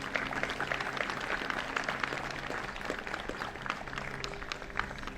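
Scattered applause from a crowd at an outdoor Memorial Day ceremony in Chicopee, with moderate, fairly distant clapping holding steady throughout.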